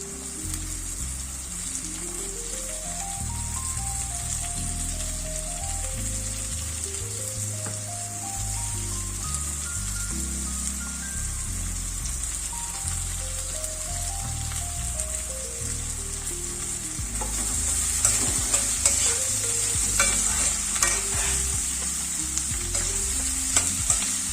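Onions and beans frying in a pan, a continuous close sizzle and hiss that grows denser near the end, with soft background music playing underneath.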